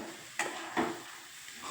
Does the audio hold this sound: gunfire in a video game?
no